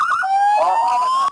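A police car siren sounds close and loud as a single rising electronic wail that holds steady before cutting off abruptly, with no talk.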